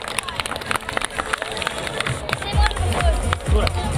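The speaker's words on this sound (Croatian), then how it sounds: "Nagradimo ih velikim pljeskom" Audience at a school fair in Zagreb applauds a young children's martial-arts display, a dense, steady patter of many hands with crowd murmur and heavier low thumps joining toward the end.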